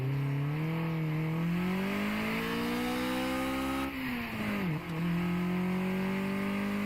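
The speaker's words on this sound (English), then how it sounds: "So now if I run the dyno, do I get different results because of that?" A car engine in Redline Reverie revs steadily upward on a dyno, a loud sustained drone that climbs in pitch, dips briefly near the top, then settles back into a steady hum.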